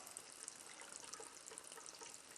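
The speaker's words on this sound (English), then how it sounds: "rinse the cup out" Cup being rinsed out under running water at a water ionizer tap, a faint steady hiss and splash of flowing water with no talking.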